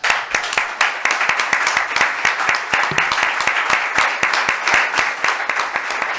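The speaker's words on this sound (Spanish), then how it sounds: "yo creo que se merece un gran aplauso" Steady, dense applause from a conference audience in Jerez, with many hands clapping together at close range and holding an even, sustained level from start to finish.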